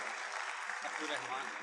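Audience applause during name announcements at the Learn & Earn Fest 2023 event, a steady, moderate wash of clapping throughout, with faint voices mixed in.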